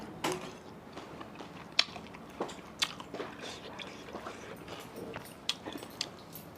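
Close, wet chewing and crunchy bites on a spicy salad of pork sausage, glass noodles, fresh shrimp and corn, with a few sharper bite clicks scattered over several seconds of steady mastication.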